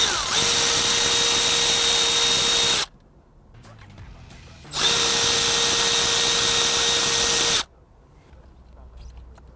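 Two loud, steady bursts of a power driver spinning out screws from the weight of a 2009-2021 Nissan 370z steering wheel, each lasting about three seconds with quiet pauses between.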